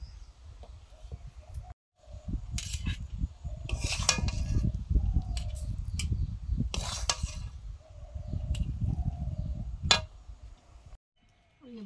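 Red amaranth leaf curry being served from a kadai onto a plate: metal utensils scraping and clinking against the wok and dish in repeated bursts, with a soft background sizzle and brief pauses.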